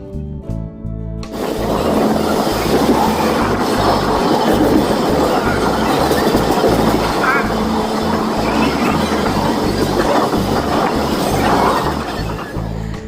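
Digha–Howrah passenger train running on the rails near Contai station, a loud, steady rumble of wheels with rhythmic clatter and metallic rattling heard from on board, continuous throughout.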